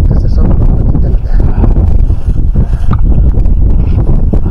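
Strong, cold wind roars across a mountain summit at about 7,900 feet, a loud, steady gusting rush buffeting the microphone throughout, with a voice faintly talking underneath.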